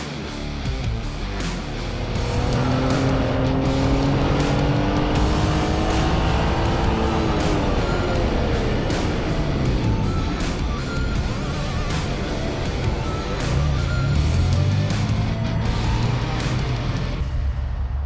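A B6 track car runs an autocross course, its engine revving loudly and continuously with rising and falling pitch through gear changes and cornering, close and sustained.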